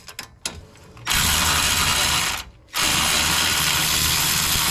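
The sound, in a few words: cordless ratchet loosening hub bolts on Nissan 370Z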